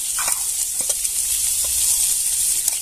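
Ground peanuts sauté in a pan of okra-seed vegetable, giving a close, continuous sizzle with small crackles and stirring scrapes, and no voices.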